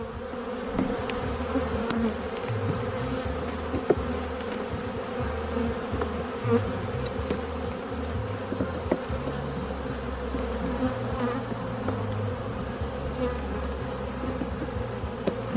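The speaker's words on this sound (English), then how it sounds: "Lots of bees." A dense, continuous buzz of many honey bees swarming close by, steady and loud for the whole stretch, with occasional bees zipping past.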